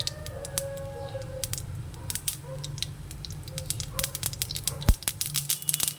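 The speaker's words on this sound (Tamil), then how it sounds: "கடுகு பொரிட்டோம்." Mustard seeds pop in hot oil as the tempering for puffed rice upma starts, a scatter of sharp, irregular crackles and snaps over a low, steady sizzle, close up and continuous.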